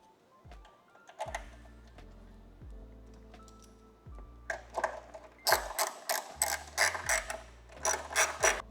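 A ratchet clicks in close quarters while screwing in a mount in the engine bay of an R34 GT-R, with several bursts of rapid clicking and some heavier mechanical clatter toward the end.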